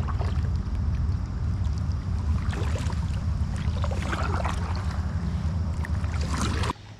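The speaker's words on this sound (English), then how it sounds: "when you're paddling your kayak, you know, you do one side and then the other" Kayak paddling on a lake in light rain, with steady water swishes and paddle strokes over constant wind and wash, close and fairly loud, cutting off abruptly near the end.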